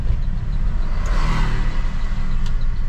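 A 2020 Suzuki Carry pickup on a rough road drops straight from fourth to second gear, its low engine rumble steady and close with a brief rise in revs mid-shift, no voices.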